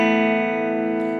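A sustained chord from an Epiphone Gold Top on the middle pickup rings through a Vox AC4TV amp, steady and loud with a slight fade and a small noise near the end.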